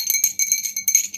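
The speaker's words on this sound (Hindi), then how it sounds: "ये चूड़ियों की आवाज है" Glass bangles clink and jingle in quick bright bursts, a few shaken rattles close up with no talking.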